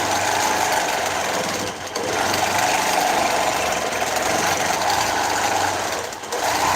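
A longarm quilting machine stitching through a quilt, a loud, steady, close mechanical hum with rapid needle chatter that runs almost unbroken, dipping briefly twice as the motion pauses.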